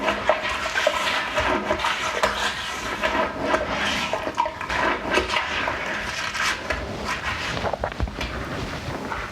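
A toilet flushes to rinse its bowl after calcium deposits are cleaned off, with a steady, close rush of swirling water lasting several seconds at even loudness.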